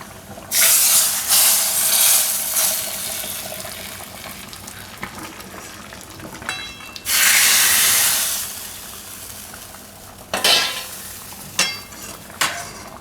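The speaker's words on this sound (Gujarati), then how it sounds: "આ વઘાર આપણે નાખી દઉં દાળ ઉપર." A hot tempering of spices and curry leaves is poured over dal, setting off loud bursts of hissing sizzle that swell and fade, then a few shorter splutters near the end, heard close with no voices.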